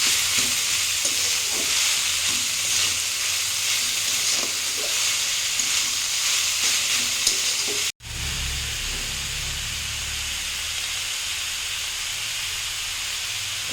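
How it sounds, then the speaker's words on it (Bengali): Banana stem frying in a covered pan, a continuous loud hiss and sizzle with stirring knocks, cutting out abruptly midway before a steadier, lower steaming hiss resumes. "এটা অনেকক্ষণ ঢাকা রেখে রেখে ভালো করে ভাজতে হবে"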